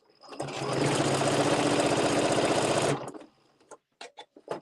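A sewing machine runs a pocket seam with a half-inch allowance on a Luxe Cuddle Fair Isle wrap: one close, steady whir of about two and a half seconds, then stops, followed by a few light clicks.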